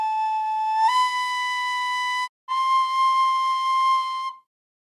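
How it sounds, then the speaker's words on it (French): A recorder plays a clear, steady whistling note, held for about a second and a half, then breaks off briefly and sounds again for about two more seconds, alone and fairly loud. "Avec un instrument de musique, une flûte à bec par exemple"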